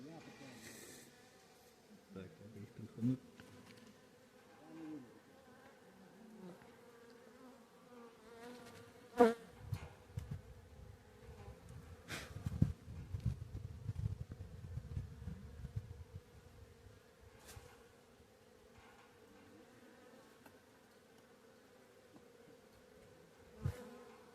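Bees buzz around an old wild log hive left unopened for five years, a steady insect hum with a few louder passes close by and brief knocks and handling noises.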